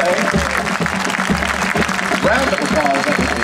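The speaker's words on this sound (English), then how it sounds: "Let's give one big loud applause for all of our performances today." An audience at a high school marching band competition at Southern Illinois University Carbondale applauds loudly and steadily, a dense, sustained wash of clapping throughout.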